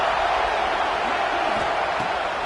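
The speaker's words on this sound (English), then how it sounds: "how nice is it to have the home crowd going absolutely bananas?" In an American football video game, a home stadium crowd roars in a constant, loud wash of cheering noise that fills the whole moment, with faint voices just audible underneath.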